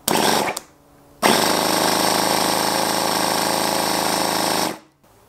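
Small NR-200 gasoline model engine cranks briefly, cuts out, then fires and runs steadily with a loud, harsh, buzzing rattle for about three and a half seconds before stopping abruptly.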